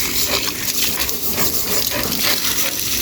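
Water pouring and gushing steadily during household cleaning, a loud, continuous, close rush with no break and no voices.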